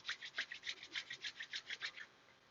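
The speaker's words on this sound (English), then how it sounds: "Go ahead and rub your hands together." Two palms rubbed briskly together, about a dozen quick, even back-and-forth strokes of soft, close friction, quiet and with no other sound.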